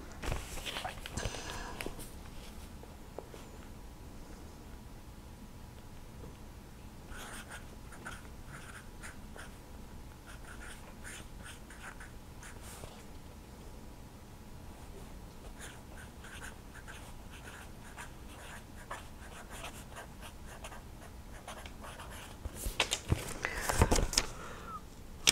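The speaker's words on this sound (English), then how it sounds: "Keep writing." A pen scratches steadily across paper for most of the stretch, with soft bursts of stroke noise and a louder rustle near the end, close and quiet with no talking.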